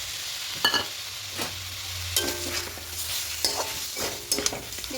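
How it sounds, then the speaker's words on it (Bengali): Chicken with whisked sour yogurt is stirred and fried in a pan without oil, a steady sizzle broken by repeated scraping strokes of a spoon, close and moderately loud, with no voices. "খুব ভালো করে মিশিয়ে নেব আবারও ভালো করে কষিয়ে নেব"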